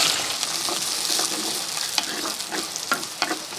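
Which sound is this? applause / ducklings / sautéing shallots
sautéing shallots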